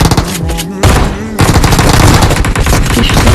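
Rapid automatic gunfire in PUBG Mobile, loud and close, in dense bursts with a short pause before the firing resumes.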